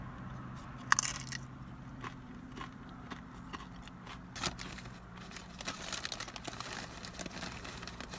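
Close, quiet bites and crunches of a Chipotle meal scooped up with tortilla chips, arriving irregularly with soft rustles in between.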